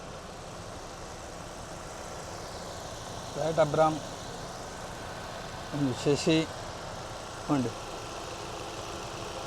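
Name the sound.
Toyota Urban Cruiser petrol engine idling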